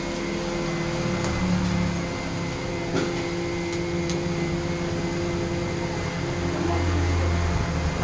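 A mixer grinder whirs loudly and without a break beside a hot griddle at a Trichy kotthu parotta stall, a steady drone filling the space with faint clinks of utensils over it.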